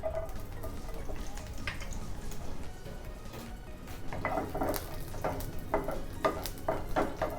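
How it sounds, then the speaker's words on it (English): Chopped garlic sautés in hot oil in a pan, a close, soft sizzle broken by the scrape and clatter of a spatula stirring against the metal. "We will saute the chopped garlic."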